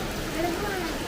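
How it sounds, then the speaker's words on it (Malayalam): Steady rain falling, a dense continuous patter at even loudness through the short stretch, with a faint voice in the background. "മഴ മഴ മഴ മഴ"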